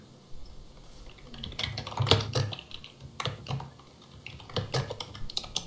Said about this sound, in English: Sorry, I'm typing.